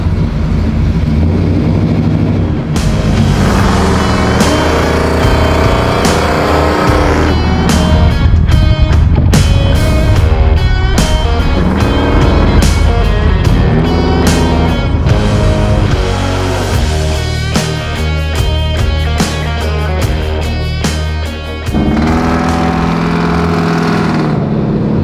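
A 1970 Chevrolet Impala Custom Coupé engine is revved repeatedly up close, with loud throttle blips that climb and fall in pitch over a steady idling rumble.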